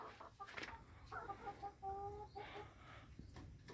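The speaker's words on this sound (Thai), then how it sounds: "ไก่ยี่สิบตัว เนี่ยกำลังไข่อยู่เลยครับ" Laying hens on a small farm flock of about twenty birds cluck and call softly, several scattered clucks and a few drawn-out calls at moderate distance, with no talk.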